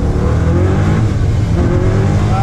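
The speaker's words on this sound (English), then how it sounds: "Okay, a lot of tire spin." A pro-touring 1981 Camaro Z28 with a T-56 manual transmission accelerates hard up a street, its engine roaring loud and close with a steady, strained note as the tires spin.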